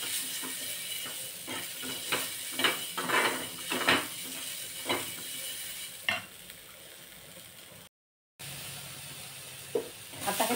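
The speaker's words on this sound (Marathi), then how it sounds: "अगदी थोडंसं तेल टाकून हे आपण थोडेसे भाजून घेणार आहोत" Tomatoes roasting in a kadhai with a little oil, a soft sizzle under repeated scraping and stirring clinks from a spoon against the pan, close and moderate in level.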